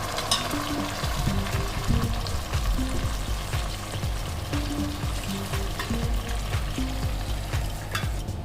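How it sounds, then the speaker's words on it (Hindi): Warm water is poured into a hot pan of vegetable rava upma cooking over a high gas flame. The pan sizzles and bubbles steadily and loudly at close range, with stirring scrapes throughout. "अब मैं इसमें 4 बोल वाटर का डालूंगी।"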